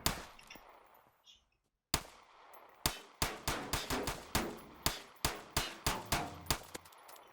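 Gunfire striking a steel rail in a SWAT-style tactical shooter video game: one shot, a pause, then a rapid string of about a dozen loud, ringing metallic impacts at a quick, slightly uneven pace.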